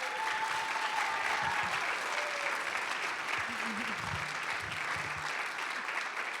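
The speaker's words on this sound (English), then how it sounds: "So let's give a round of applause for Rita." At a community volunteer awards event, an audience gives a volunteer a warm round of applause: thick, even clapping from many hands, sustained at a steady level and tapering slightly at the close.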